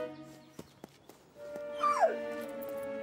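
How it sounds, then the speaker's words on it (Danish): A cartoon rescue dog gives a few faint sniffs and soft huffs, then a brief rising-and-falling whimper, close and alone, in the Danish version of the children's animation Fireman Sam. "Det er en hund. En redderhund."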